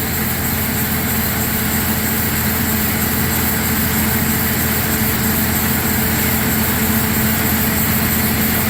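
A Gehl 100 grinder mixer runs at a steady, even mechanical drone as it begins stirring, with a continuous engine-like rumble and no talking.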